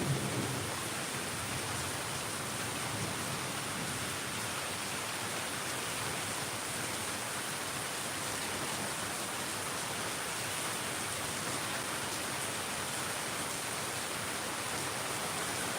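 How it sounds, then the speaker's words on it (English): Heavy rain pours down in a steady, dense wash of noise that holds evenly from start to finish, loud and close with no voices. "It's just raining here as hard as it can rain."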